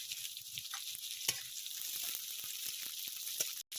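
Slit green chillies sizzle steadily in hot oil, a bright continuous crackle with a few sharper pops, close and alone without talk.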